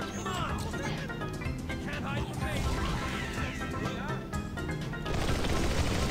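Halo 2 SMG fire in Halo, rapid automatic bursts rattling over busy battle noise and music, moderately loud, with a player talking over it.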